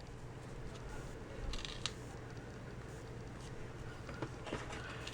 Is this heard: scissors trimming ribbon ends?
yes